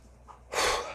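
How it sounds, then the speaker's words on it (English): A person with a cold gives one quick sharp sniff, a short breathy rush of air through the nose after a quiet moment. "Been a bit cold here, so I got the sniffles."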